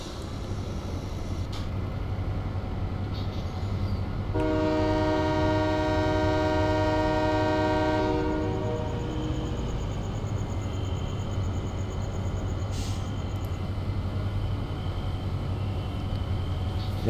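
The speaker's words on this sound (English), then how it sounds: "there's my train." A train rolls past in Farming Simulator 17, its horn sounding as a steady sustained tone for several seconds over a constant low rumble of rail noise that lingers after the horn stops.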